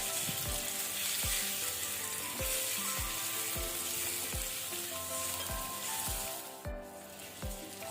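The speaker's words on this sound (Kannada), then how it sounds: "ಇದನ್ನೀಗ ನಾವು ಲೋ ಫ್ಲೇಮಲ್ಲಿ ಸ್ವಲ್ಪ ಮೊಟ್ಟೆ ಕಲರ್ ಚೇಂಜ್ ಆಗೋ ತನಕ ಫ್ರೈ ಮಾಡ್ಕೊಳ್ಳುವ" Eggs fry on a low flame in oil for a spinach and egg gravy, a steady close sizzle running throughout, with several sharp clinks of a utensil against the pan at regular intervals.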